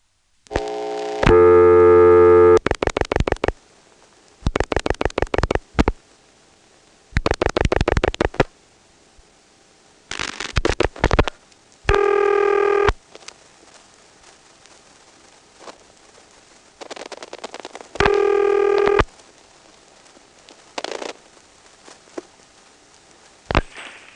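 A senderized XY step telephone switch answers a dialed 7-2 with trains of sharp mechanical clicks, interspersed with several steady electronic tone bursts and quiet gaps.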